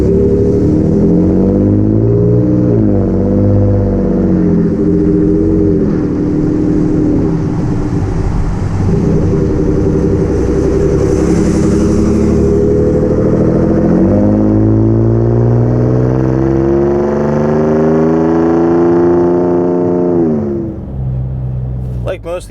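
Ford F-150 Raptor, 2017, with a Ford Performance dual rear exit touring cat-back exhaust with chrome tips, droning steadily up close with rising and falling revs and turbo whistle, mixed under ongoing talk.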